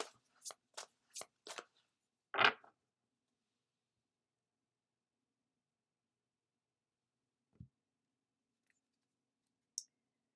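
Tarot cards handled during a reading: a quick run of four or five crisp clicks and snaps, then a single louder riffling burst, followed by long quiet broken by a couple of faint taps near the end.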